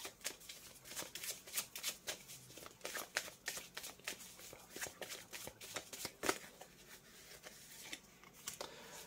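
Tarot cards are shuffled and drawn in quick, soft riffling bursts with flicks and slides of card stock, close and fairly quiet, repeating in an uneven rhythm.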